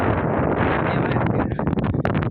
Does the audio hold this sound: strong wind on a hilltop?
yes